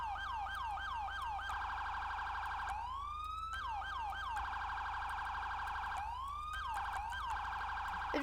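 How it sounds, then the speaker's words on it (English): A police car siren from a FiveM game siren pack wails and yelps in rapid rising and falling cycles, switching between tones, loud and steady with no talking. "Now you have the siren pack installed."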